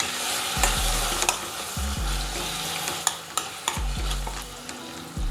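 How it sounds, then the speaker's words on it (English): Diced tomatoes frying in a pan on the stove, a soft continuous sizzle broken by repeated scraping strokes of a spoon stirring, several distinct scrapes spread across the stretch, close and clear. "Give that a nice stir."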